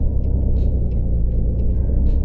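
A rattly old coach engine in Tourist Bus Simulator rumbles steadily and loudly, a dense low drone with a faint clattering texture running the whole time and no voices.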